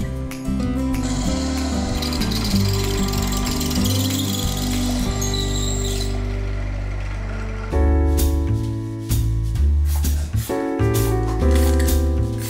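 A power tool sands a coconut shell in a small craft workshop turning coconut shell waste into products, giving a loud, continuous close-up whine that shifts pitch as the load changes, with a brief break near the middle.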